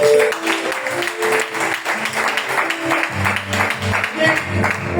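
A congregation claps at a New Year's Eve all-night prayer meeting, with steady, dense applause running throughout, mixed with voices and musical tones.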